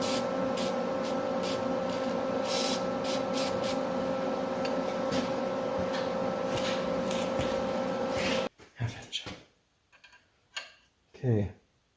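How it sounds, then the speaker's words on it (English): Spray can of WD-40 hissing onto the bottom side of a John Deere 830 industrial radiator, a steady hiss under a constant hum that stops abruptly, followed by short knocks and clunks. "I'm going to spray some WD-40 on the bottom side."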